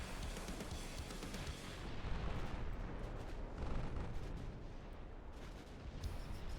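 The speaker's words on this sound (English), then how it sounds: "the battleships are now firing at the lighter support fleets" Battleship artillery in a naval strategy video game fires continuously, a dense rumbling barrage of overlapping booms and explosions, loud and sustained, no talking.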